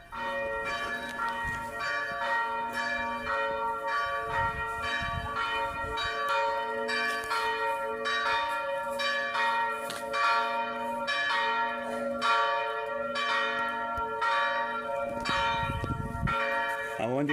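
Church bells ringing continuously, repeated clear metallic strikes in a steady rhythm with long overlapping resonant tones, moderately loud and heard alone.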